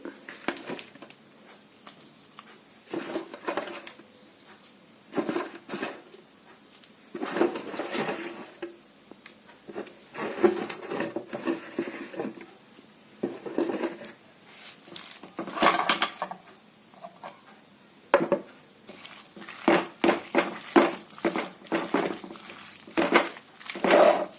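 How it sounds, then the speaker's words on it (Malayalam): Raw prawns being stirred into a masala marinade in a bowl: intermittent scraping and clinking of a spoon against the dish in irregular bursts, close and fairly quiet with pauses between strokes, no talking. "നമുക്ക് ഇതിലേക്ക് കൊഞ്ച് നീക്കിയിട്ട് ഇളക്കി"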